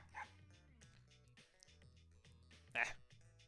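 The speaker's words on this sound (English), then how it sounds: "Dog. Koromaru appears from the side street and magnificently runs past us." A dog in the fighting game Persona 4 Arena Ultimax gives two short, sharp barks, one near the start and a louder one near the end, over sustained game music.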